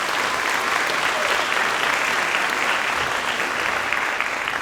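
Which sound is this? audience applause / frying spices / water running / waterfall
audience applause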